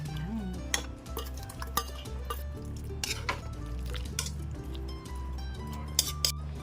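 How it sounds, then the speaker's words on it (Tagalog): Shredded cabbage goes into a pan of simmering pork curry, with scattered metallic clinks and stirring scrapes from a utensil against the pan over steady background music. "Lagay na po natin yung ating cabbage."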